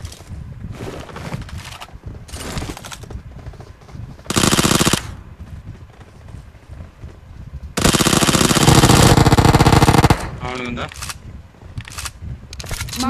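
Automatic gunfire in a battle royale video game comes in loud bursts, including one long sustained volley, with quieter shots and game noises between. Voices talk throughout.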